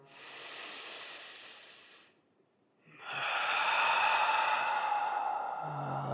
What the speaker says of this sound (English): inhale, expand on the lift. And exhale with ease and grace.